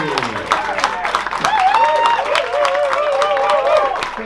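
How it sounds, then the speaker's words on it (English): Comedy-club audience in Birmingham applauding and cheering after a stand-up set, a sustained, loud wash of clapping with whoops and a compere's voice over it. "keep that applause going as we welcome onto the stage the next act"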